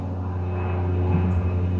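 An airplane drones steadily overhead, a continuous low engine hum with a faint tonal whine that holds at an even, moderate level throughout with no talking.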